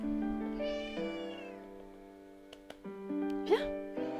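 A cat meows repeatedly and fairly close, with drawn-out, tonal calls that rise and fall and a short pause between them, while a person speaks softly nearby.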